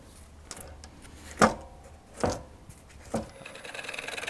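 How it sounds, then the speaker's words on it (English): Three separate hollow wooden knocks come as a rough-turned wooden bowl blank is seated back into a lathe chuck on the headstock, followed by a faint rising hum. "then I can reinstall the bowl blank back on the lathe with the chuck in the headstock"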